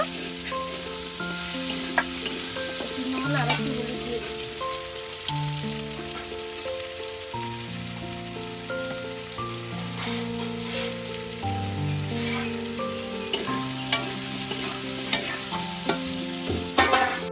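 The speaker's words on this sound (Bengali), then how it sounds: "আলুগুলো একটু ভেজে নেবো ভালো করে। লাল লাল করে আলুগুলো ভেজে নেব।" Potato pieces fry in hot oil in a pan for a Bengali mocha (banana flower) recipe, a continuous sizzle with occasional stirring clinks, while soft background music plays.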